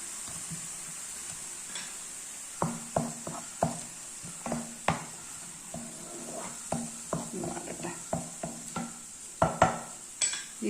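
Green chillies sautéing in a pan with ginger and garlic for mutton liver pepper roast, a soft sizzle beneath a series of sharp spatula taps and scrapes against the pan, irregular and close.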